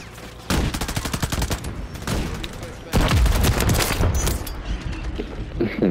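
Dual pistols in Call of Duty MW3 fire in rapid bursts of crisp, repeated shots, loud and close, with a heavier blast partway through and voices talking in the background.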